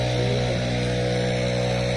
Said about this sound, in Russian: он там пылесос гудит